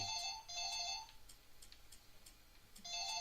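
A phone ringing in short electronic bursts, two quick rings, a pause, then another ring, faint and steady in a quiet room.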